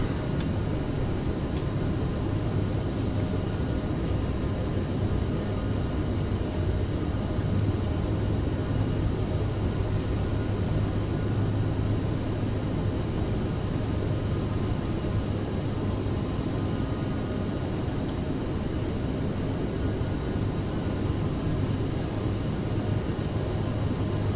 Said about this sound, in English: Beautiful looking takeoff, man.